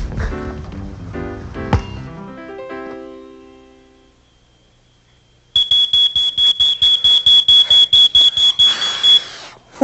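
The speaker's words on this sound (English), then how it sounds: "A smoke alarm can save your life." A household smoke alarm beeping loudly in rapid, evenly spaced shrill pulses, coming after a fading musical passage of a few notes in a children's safety program.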